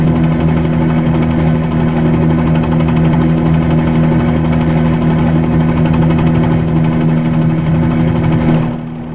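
A piston-engined Bell 47 G2 helicopter in the FlyInside flight simulator drones loudly and steadily while hovering, a constant low engine and rotor hum that fades slightly at the very end.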